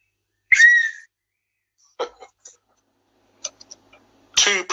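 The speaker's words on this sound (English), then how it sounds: "So, I got a little whistle. So, I'm going to blow it." A small handheld whistle gives one sharp, shrill blast, followed by a few faint clicks and scattered short noises, then a louder burst near the end. The whistle sounds close against near silence.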